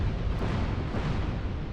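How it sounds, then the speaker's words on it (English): Three explosions go off in the Dark Souls 2 video game's Forest of Fallen Giants, a dense, continuous broadband roar of blasts that fills the whole moment without any pause. "as you can see, like 3 explosions"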